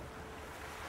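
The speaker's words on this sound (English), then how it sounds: "I do like the water effects here." Steady surf and lapping water from a video game's water effects, a close, continuous wash of waves with airy, wind-like hiss and no voices over it.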